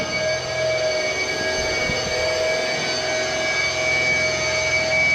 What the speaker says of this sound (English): Oh, that's the flaps going down.